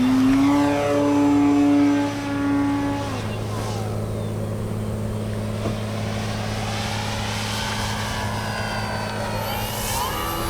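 A radio-controlled Avios Grand Tundra V2 airplane, caked in dirt and shedding water, flies close by with a steady, near propeller drone whose pitch bends and shifts as it passes.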